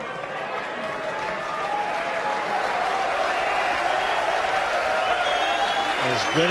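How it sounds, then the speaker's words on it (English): A knowledgeable crowd at the Mosconi Cup 9-ball pool event in Blackpool breaks into steady, sustained applause after a great shot, a dense wash of clapping that swells slightly and holds, with faint commentary beneath. "this knowledgeable crowd in Blackpool appreciating a great shot from Ekonomopoulos"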